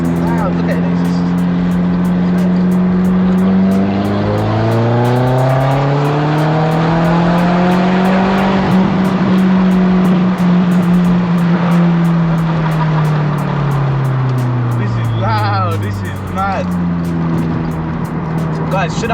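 Audi S3 8L with the 210 APY engine, its very loud modified exhaust roaring as revs climb and fall in long sweeps, with crackles and pops, close by and over people talking.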